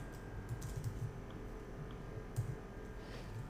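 Quiet, rapid keystrokes patter on a computer keyboard while HTML is typed, soft clicks close by over a faint room hum with no talking.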